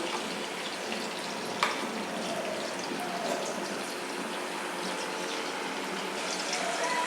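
About two spoonfuls of butter melt in a hot pan with a steady, soft sizzling hiss that carries on without a break, fairly quiet throughout.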